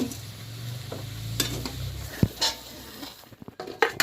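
Potatoes dusted with turmeric are stirred in hot oil in a pan, with a low sizzle under scraping, clinking spoon strokes and a few sharp knocks against the pan.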